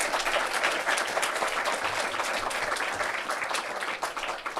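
A room full of people applauding steadily, a dense even wash of clapping that holds throughout.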